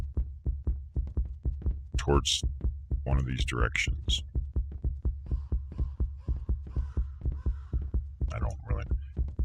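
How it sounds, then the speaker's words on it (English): Video game heartbeat effect thumping in a steady, fast rhythm of deep, muffled beats that continues throughout, loud and close, with someone talking over it at intervals. "the heartbeat's going up"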